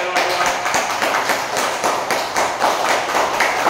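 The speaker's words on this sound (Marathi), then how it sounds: "चला जोरदार टाळ्या वाजवा" A yoga-session audience claps loudly together after patriotic chants, a dense, steady burst of many hands close by that runs the whole moment without pause.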